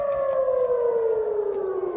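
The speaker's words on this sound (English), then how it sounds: "When the sirens go off." A civil defense siren in Israel wails steadily at a distance, a single sustained tone slowly falling in pitch, heard alone without talk.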